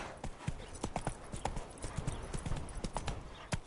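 Roach the horse gallops in The Witcher 3, a brisk run of close, loud clip-clop hoofbeats in quick uneven rhythm, with no voices.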